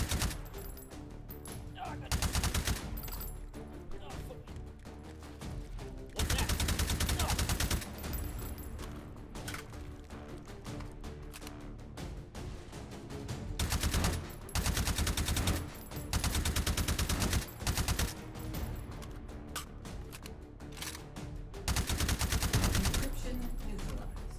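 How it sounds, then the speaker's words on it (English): Rapid-fire bursts from a gun loaded with +P incendiary rounds in the VR shooter H3VR, several long sustained volleys of dense automatic fire separated by brief pauses, loud and close throughout. "Just rapid fire plus P incendiary rounds and that shreds."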